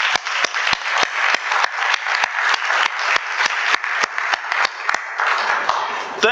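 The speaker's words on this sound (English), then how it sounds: "Please join me in a round of applause for these great students." A civic State of the City audience applauds a group of students, a dense, sustained wash of many hands clapping, loud and close, with a few sharper individual claps standing out before it tapers at the end.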